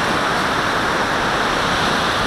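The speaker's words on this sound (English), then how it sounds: "so here's the falls" Hogs Back Falls in Ottawa pours with low water flow, a dense continuous broadband rush of falling water close by, with wind buffeting mixed in and no pauses.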